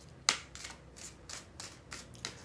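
Tarot cards being shuffled up close: a sharp first riffle, then several quick, crisp bursts in a steady rhythm with no talking.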